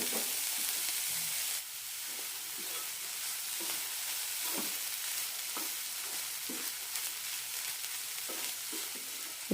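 Beetroot and egg stir-frying in a pan over a low flame, a steady soft sizzle broken by a series of quick scraping and stirring strokes, close up with no talking.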